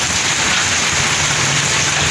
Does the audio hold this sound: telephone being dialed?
no